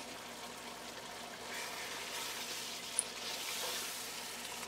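Dry spices such as turmeric and coriander powder lightly roasting in a pan give off a soft, steady sizzle with faint scraping, quiet and continuous with no voices.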